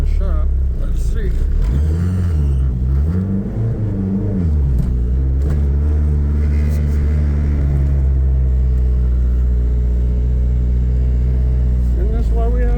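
A 1990 Talon driven along a road on a snowy day, its engine rumbling loudly and close, with rising and falling revs early on before settling into a steady drone. A voice talks over it.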